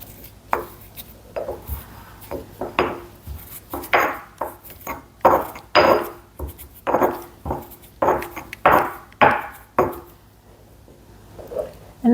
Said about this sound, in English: the mint that we got from our garden is what I'm going to be muddling in